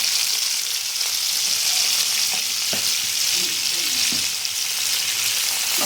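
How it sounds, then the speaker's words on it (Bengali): Small cut potatoes frying in a pan with a little salt, producing a loud, even, continuous sizzle with occasional soft stirring knocks underneath. "এখন আলুগুলোকে আমি একটু ভেজে নিচ্ছি।"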